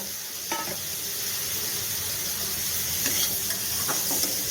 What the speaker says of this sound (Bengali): আমি মাছের মাথাটা দিলাম, দিয়ে আর এই কষছি